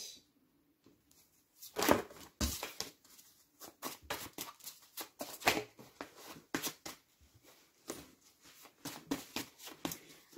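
Oracle cards being shuffled by hand for a full moon reading, giving a run of soft, irregular papery riffles and flicks close by, with brief pauses and no talking.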